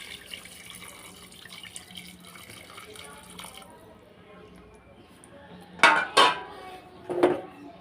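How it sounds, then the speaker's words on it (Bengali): Hot water poured from a vessel into a pot of marinated beef, with a quiet background hiss, then a few loud splashing pours and clinks of metal cookware near the end. "গরম পানিগুলো দিয়ে দেব।"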